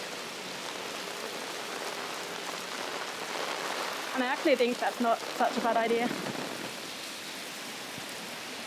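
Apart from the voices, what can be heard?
heavy rain falling on a city street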